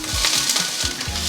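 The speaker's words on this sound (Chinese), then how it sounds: "快速的给它翻炒一下" Green beans, dried tofu and shiitake mushrooms sizzle in hot oil as they are stir-fried, with steady frying hiss broken by several rhythmic scraping tosses of the spatula, close and fairly loud.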